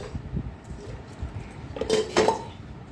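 Anodized pots and a pressure cooker handled in a home kitchen, giving a couple of bright metallic clinks and clatters near the end over a quiet background.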